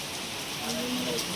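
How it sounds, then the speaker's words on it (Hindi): Steady, dense rain hissing close by, with a faint voice briefly audible beneath it. "यहाँ पर इतनी बारिश हो रही है"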